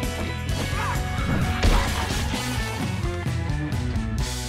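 Hostile birds attack in the survival video game 7 Days to Die, in a desert area. Their squawks and flapping cries come in bursts, mixed into a dense, loud wash of game music and combat effects.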